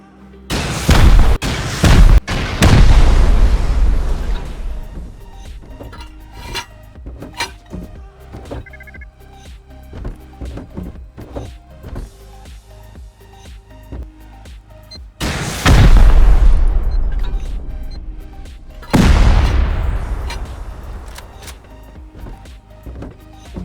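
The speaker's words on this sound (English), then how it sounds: "I knew there was another loot room upstairs, so I continued sending rockets." Rocket explosions blast a base during a raid in the video game Rust: a quick cluster of loud, close booms opens, a rumbling stretch follows, then two more heavy blasts land with long decaying tails.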